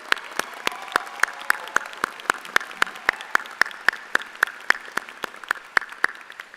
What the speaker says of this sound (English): Please join me in a round of applause for the staff,